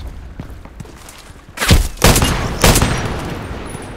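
A TIS Desert Eagle pistol fires in the online shooter game Contract Wars. Three sharp, loud shots ring out in quick succession after a quieter stretch of background game noise.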